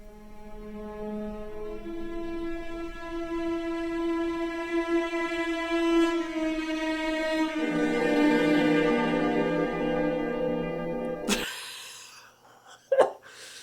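Orchestral opening of Wagner's Tristan und Isolde prelude, used as the opening of the film Melancholia: sustained, swelling string and wind harmonies that slowly thicken, then cut off abruptly near the end, leaving faint low rumble and a brief bump.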